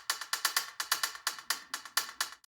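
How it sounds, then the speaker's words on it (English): Rhythmic percussive hits with a reverb tail on each, a steady pulse of about ten bright transients over two and a half seconds, followed by a clean stop, played back from a Dolby Atmos mix with reverb applied to objects and beds. "we can hear some reverb on here"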